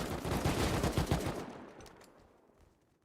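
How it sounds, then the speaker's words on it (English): A rapid burst of automatic gunfire in the video game Rust, loud and close, cutting off after about a second and a half and leaving a fading echoing tail. "That gunfire."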